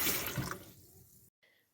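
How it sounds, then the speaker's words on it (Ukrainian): Hot water being drained from boiled eggs and cold water poured in, a loud gushing splash that thins to a softer trickle, stops briefly, then resumes faintly. "Яйця вже відварилися, зливаємо гарячу воду, заливаємо в холодну"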